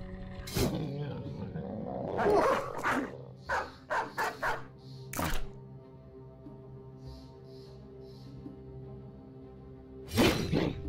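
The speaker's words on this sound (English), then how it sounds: "Can I attack and release a dog?" A released dog snarling, barking and growling in the medieval combat game Battle Brothers, with a few sharp bursts and impact sounds over a low steady game drone.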